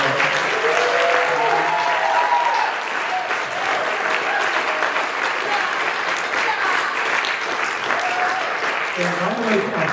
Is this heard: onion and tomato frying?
no